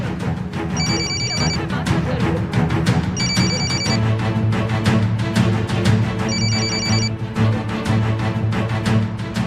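A telephone bell rings in three repeated bursts of bright, evenly spaced trills over a constant low background hum and music bed, fairly loud and clear.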